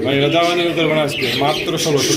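Racing pigeons in a cage give harsh, rising squawking calls, close and loud, overlapping with someone talking nearby.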